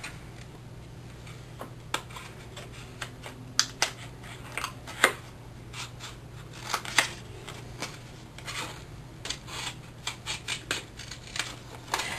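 Scissors snip through a paper Halloween card to cut out a window frame, a steady run of small sharp clicks and crunches close by, irregular in rhythm, over a low constant hum.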